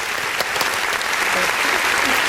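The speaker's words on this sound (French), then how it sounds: "Applaudir Tetel," Continuous applause fills the whole short moment, a steady wash of many hands clapping at even loudness with no talk over it.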